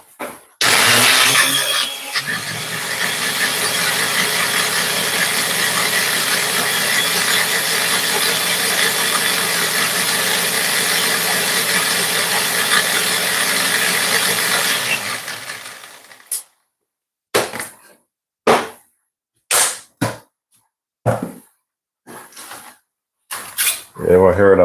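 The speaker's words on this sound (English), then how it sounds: "And watch this in my blender, and this is gonna get it as fine as possible." A kitchen blender runs loud and steady, grinding sauce ingredients with added water for a Jamaican Sunday dinner for about fifteen seconds, then cuts off, followed by a few short knocks and clatters.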